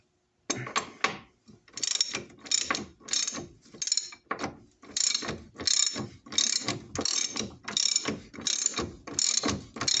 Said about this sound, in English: Use a good quality ratchet. So go ahead and break that loose. This is a 19mm.